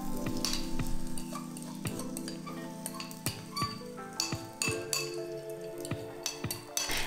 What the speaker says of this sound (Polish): jak tutaj smaży mi się omlet